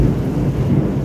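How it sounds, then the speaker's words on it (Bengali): Deep thunder rumbles loudly through a monsoon rainstorm, a heavy low roll sustained over about a second with rain noise underneath. "জোরে বিদ্যুৎ চমকাবে।"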